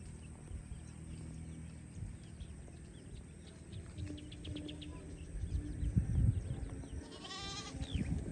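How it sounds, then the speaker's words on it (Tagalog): Goat bleating outdoors near a river in a mountain setting, several short bleats over steady ambient noise, growing louder and closer toward the end. "Ay, may kambing."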